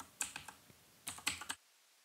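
Brief bursts of typing on a computer keyboard, quiet and close, with a few quick key clicks, a short pause, then another cluster of taps before silence.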